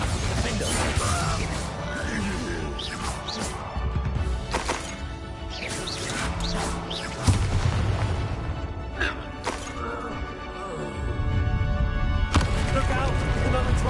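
Confringo and Bombarda spells explode repeatedly in a Hogwarts Legacy troll fight, with bursts, crashes and impacts scattered over a constant dense battle din, voices talking among them.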